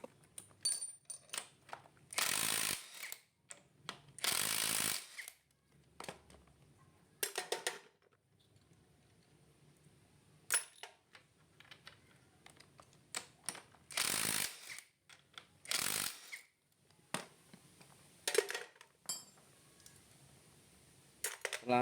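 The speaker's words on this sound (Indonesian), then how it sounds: "kita lepas baut head menggunakan kunci 12" Cylinder head bolts on a carbureted Honda Vario engine loosened with a 12 mm wrench, quiet metallic ratcheting and clicking bursts with short pauses between them, close up and with no talking.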